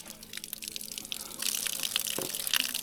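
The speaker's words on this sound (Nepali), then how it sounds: "पानी पनि देखाइदिउँ न पानी देखाइदिउँ मुलको पानी है यो" Spring water from a hillside source at a mountain camping spot runs and splashes steadily and close by, with a brief low gurgle partway through.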